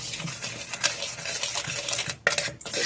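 A utensil clinks and scrapes around a bowl while blueberry pancake batter is mixed, giving repeated close, light tapping and swishing strokes with a brief pause near the end.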